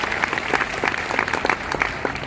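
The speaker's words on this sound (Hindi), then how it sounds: "एक बार तालियां बजनी चाहिए" Audience applause at a business talk, a steady patter of many hands clapping throughout, fairly close and continuous with no speech over it.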